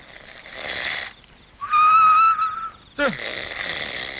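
A comedian imitates loud human snoring with breathy, noisy inhales on either side of a thin, steady whistling tone, alone and close up.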